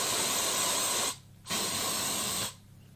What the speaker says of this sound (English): Then hairspray.